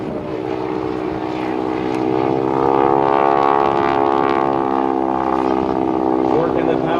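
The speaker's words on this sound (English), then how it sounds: "pointing it into the wind, going slower and slower every second, pulling that nose up for the Texan High Alpha Pass." Texan propeller aircraft flying a slow, nose-high pass at an airshow, a loud steady droning engine and propeller hum that swells slightly as it nears, with crowd ambience in the background.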